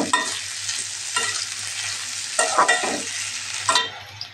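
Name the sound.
onions and green chillies frying in pan for duck curry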